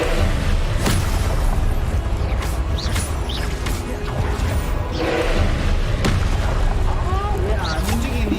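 Confringo spell blasts in Hogwarts Legacy, heavy booming explosions and thuds repeating over a dense, loud game soundscape with continuous rumble and scattered impacts.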